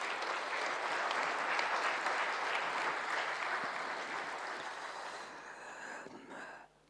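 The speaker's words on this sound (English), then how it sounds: "please, another round of applause." Sustained applause from a large crowd at a 2022 New Year reception for ambassadors hosted by Tanzania's President, loud and steady for several seconds before tapering off and stopping abruptly at the end.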